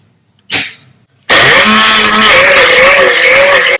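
An electric mixer whirs loudly and steadily, beating butter and sugar for a lemon drizzle cake, starting abruptly after a short thump and running continuously with a slight wavering pitch.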